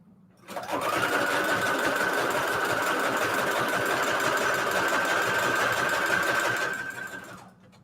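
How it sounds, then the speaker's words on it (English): A sewing machine runs at a steady, fast pace for several seconds, a loud mechanical whir that starts and stops cleanly. "I still have to figure out if I can do that with this sewing machine."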